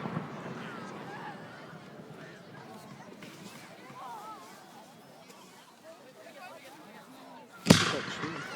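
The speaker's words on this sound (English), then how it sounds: "Forest fireworks show." A fireworks show in a forest: a low, busy rumble with voices runs throughout, then one sharp, loud firework bang bursts near the end and fades away.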